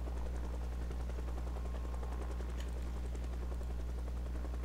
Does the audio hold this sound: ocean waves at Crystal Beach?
no